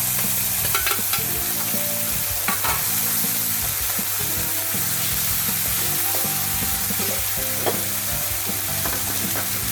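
Masala and ginger paste sizzling in a pan, a dense continuous fry hiss with frequent clinks and scrapes of stirring, close and steady throughout with no voices.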